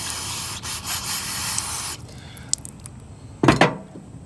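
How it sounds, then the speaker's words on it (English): Cleaner sprayed into the carburetor of a Brute Force 650 ATV, a loud hissing spray for about two seconds, then quiet handling noises and a second short burst. "So I'm just gonna spray in there"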